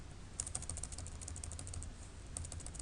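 Typing on a computer keyboard while entering text in a web browser, a steady run of close, crisp key clicks over faint room hum with a short pause before a final burst.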